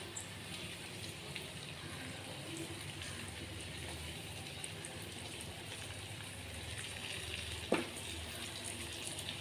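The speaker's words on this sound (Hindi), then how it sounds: "ये देखिए भिंडियाँ हमारी एक तरफ सिकने लग गई हैं, तो अब हम इनको धीमे धीमे से इस तरह से पलट ले रहे हैं।" Stuffed okra (bharwa bhindi) frying in a pan, giving a faint, steady sizzle throughout with a single soft scrape or clink as the pieces are turned, heard at low level with little talking.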